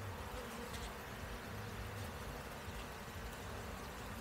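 Honeybees swarm and hum in an opened hive during the first spring inspection, when queens are taken out of isolation cages. A dense, steady buzz fills the air close by with no talking.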